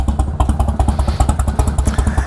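A naturally aspirated Harley-Davidson EVO V-twin motorcycle idles up close, its loud, uneven loping thumps repeating in a steady galloping rhythm with a clattery mechanical edge, alone without talk.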